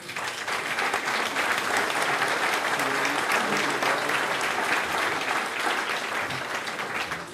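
An audience at the inauguration of the Aristide-Maillol pavilion applauds Renaud Bègue with loud, steady clapping from many people, a few voices murmuring underneath.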